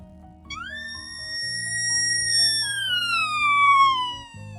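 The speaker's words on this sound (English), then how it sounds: "Then, sirens." A single police siren wails, rising in pitch and then slowly falling, loud and close over a low rumbling background.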